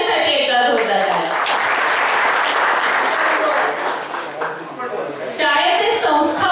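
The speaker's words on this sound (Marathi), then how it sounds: "एकदा जोरदार टाळ्या." A crowd at a school reunion claps for a person in sustained, dense applause lasting several seconds, with voices speaking at the start and again as the clapping fades.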